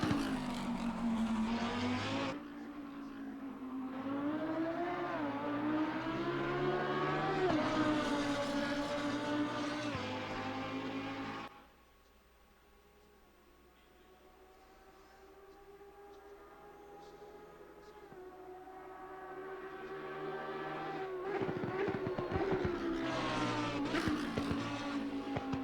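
A Lamborghini Huracan EVO race car in the Assetto Corsa video game laps Suzuka, its engine screaming loudly through rising gear pulls, dropping off sharply mid-run before building back up to a high wail.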